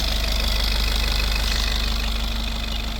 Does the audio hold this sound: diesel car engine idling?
yes